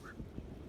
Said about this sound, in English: When they fly at night, they often make a loud squawking call.